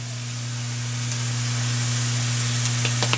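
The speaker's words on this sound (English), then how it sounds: "Meanwhile, I'm sauteing my cremini mushrooms." Cremini mushrooms saute in hot coconut oil in a pan, giving a steady, close sizzle and hiss that grows slightly louder, with a constant low electrical hum beneath and a few faint clicks near the end.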